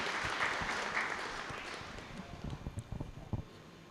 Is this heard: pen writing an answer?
no